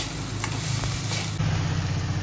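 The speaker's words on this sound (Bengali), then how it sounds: "মাশরুম দিয়ে মশলা দিয়ে ভালো করে কষে নেব" Mushrooms sautéing with spices in a pan, a steady, close sizzle and fry with a faint low hum running under it and a few soft stirring scrapes, no talking.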